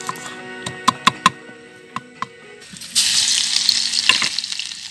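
Eggs frying in oil on a camp stove at a campsite: a few sharp clicks and taps of a utensil first, then a loud, steady crackling sizzle that swells and carries on to the end, with no talk.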